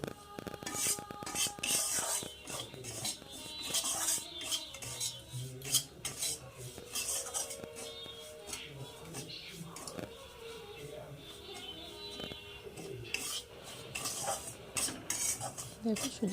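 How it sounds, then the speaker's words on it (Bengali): Semolina is stirred and dry-roasted in a pan for a bottle-gourd payesh, making repeated close scraping and rasping strokes of a spoon against metal with occasional clinks, while a voice talks quietly over it. "সুজিটা দিয়ে আমি নাড়তে থাকবো, সুজিটা যতক্ষণ না কালারটা একটু বদলে যায়, লাল লাল হয়ে যায়।"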